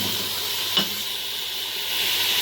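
Carrot halwa with paneer stirred and roasted in a pan, a steady close sizzle and hiss with one brief scrape of the spoon early on, no talking.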